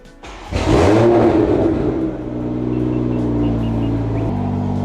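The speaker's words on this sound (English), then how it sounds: "I'm gonna start the car" A Toyota Mk5 Supra (A90) engine starts up close by: a brief starter crank, then a loud rev that eases down into a steady, rumbling idle.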